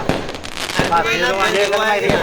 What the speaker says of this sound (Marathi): फटाका फोडू